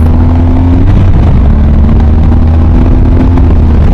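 A BMW 1250 GS motorcycle accelerates hard with a loud, steady engine drone, its pitch rising and briefly stepping as the quick shifter snaps through gear changes, heard close up over heavy wind rush.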